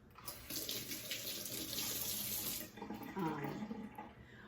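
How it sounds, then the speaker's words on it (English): Kitchen tap water running steadily into a sink while hands are washed, a continuous hissing splash that shifts and gurgles near the end. "Wash my hands again."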